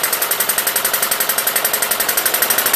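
A Webster engine running under governor control beats in a fast, even, rhythmic chuffing pulse, loud and close, with no talking.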